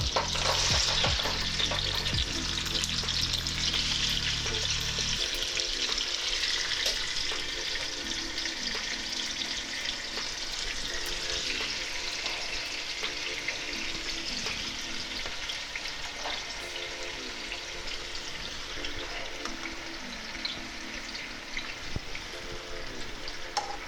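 Fresh garden tomatoes go into hot olive oil in a Dutch oven, a loud hissing sizzle that settles into steady frying, with stirring scrapes and knocks throughout and no voices.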